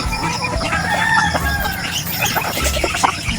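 Chickens cluck and a rooster crows at an early-morning feeding alongside ducklings, a busy close flock with repeated clucks and calls throughout.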